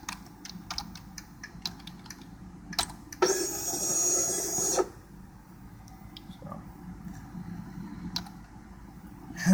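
An IAI linear actuator drives to the end of its travel, giving a steady whirring motor run of about a second and a half, close and fairly loud, set among faint intermittent clicks and ticks.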